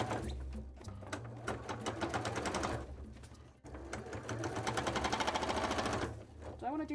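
A sewing machine topstitches fabric for a cosplay headpiece, its needle running in a fast, steady rhythmic chatter with brief pauses between runs, while a person talks over it.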